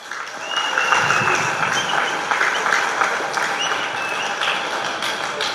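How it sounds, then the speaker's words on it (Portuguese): Audience applause at a youth cup event in Fornos de Algodres, a steady dense wash of clapping that swells in and holds for several seconds with no talk over it. "Uma salva de palmas para eles."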